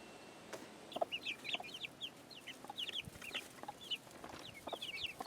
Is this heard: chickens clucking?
yes